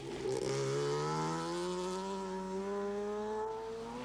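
A Ford Escort Cosworth rally car drives past at the 1994 Townparks Rally, its engine note climbing steadily in pitch as it accelerates hard, loud and close throughout.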